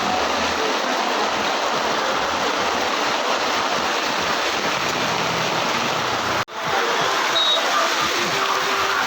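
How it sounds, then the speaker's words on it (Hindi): Torrential rain hammers down outdoors by a shop in a loud, unbroken wash of splatter, briefly cutting out for a moment before resuming just as heavy. "अरे बहुत खतरनाक बारिश आ गया यार।"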